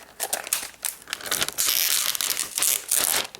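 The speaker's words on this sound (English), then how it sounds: "First thing we need to do is peel off this plastic." Protective plastic film peeled off a metal Asus Transformer Pad Infinity mobile keyboard dock, a close, loud run of crinkling, crackling and tearing rustles that grows denser in the middle, with no talking.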